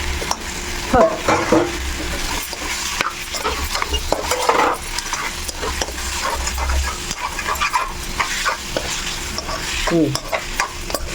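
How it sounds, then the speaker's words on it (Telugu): Raw chicken pieces tossed into a hot pan and stirred while frying for a home-cooked family meal, a steady close sizzle with scraping and clacking of the spoon against the pan, no talking. "చికెన్ కూడా వేసేసుకుంటున్నాం ఇప్పుడు బాగా కలుపుకోవాలి"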